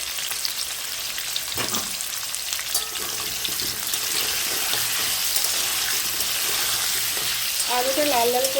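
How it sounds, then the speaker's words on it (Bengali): Potatoes fry in hot oil with a loud, dense crackling sizzle that holds steady, a few utensil knocks cut through, and a brief voice rises near the end. "আলুটা লাল লাল করে আমি ভেজে তুলে নেব"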